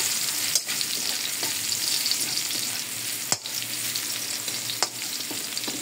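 Garlic sizzles steadily in a hot pan as it is sautéed for pork adobo, a close, even frying hiss punctuated by a few sharp clicks of stirring.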